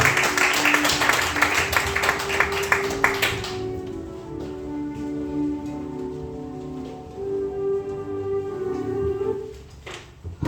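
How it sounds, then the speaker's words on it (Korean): Seminar audience applauds to welcome a guest speaker, dense clapping for about four seconds that thins out, leaving quieter room sound with a low hum. "큰 박수로 맞이해 주시기 바랍니다"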